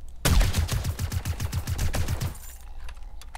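Rapid automatic gunfire in the zombie survival game 7 Days to Die, about a dozen heavy, evenly spaced shots in a steady burst with strong recoil thump, loud and close, stopping abruptly and leaving faint ambient noise.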